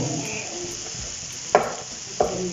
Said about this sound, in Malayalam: സവാള വഴണ്ട് വരുന്നു.